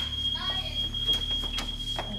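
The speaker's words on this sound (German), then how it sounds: "Das ist ein Rauchmelder." A residential smoke detector sounds a high, piercing beep that repeats through the stretch while people talk nearby.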